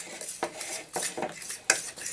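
Utensil stirring and clinking against a bowl while mixing ingredients for coating fish, a few irregular close scrapes and taps, moderately loud, no voices.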